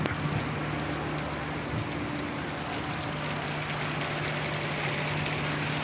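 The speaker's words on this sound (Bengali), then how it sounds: "আরে সুন্দর লাগতেছে এই বৃষ্টির মধ্যে যদি আমি ভিজ পারতাম রে মিলন" Steady, dense rain pouring down at Marina Bay, Singapore, with a constant hiss and a low hum underneath throughout.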